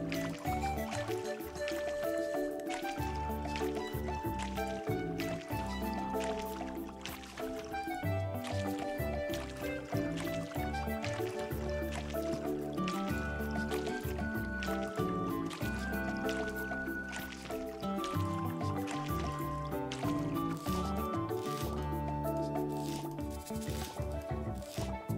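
Watering plants with a watering can in the farming game Coral Island brings repeated splashing, filling sounds over steady game background music, with no talking.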